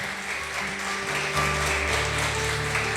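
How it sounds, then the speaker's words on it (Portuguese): A church congregation applauds together, a dense steady patter of clapping running throughout beneath sustained musical tones. "Você pode aplaudir ao nome do Senhor Jesus"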